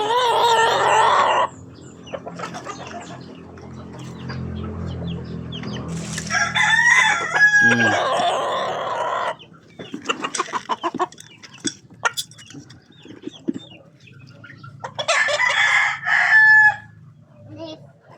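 Chickens cluck and scratch nearby while a rooster crows loudly several times, long crows at the start, middle and near the end.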